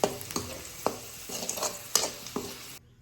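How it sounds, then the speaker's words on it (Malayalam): Raisins fry in hot oil for an Eid chicken dum biryani, a close steady sizzle punctuated by about six distinct scraping stirs, ending abruptly in near silence. "അങ്ങനെ മുന്തിരി നല്ല ഫ്രൈ ആയിട്ട് വരുന്നുണ്ട്."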